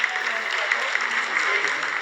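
Applause fills the mission control room during the Chandrayaan-3 lunar landing, a steady, moderately faint patter of many hands clapping at once that continues throughout without pause.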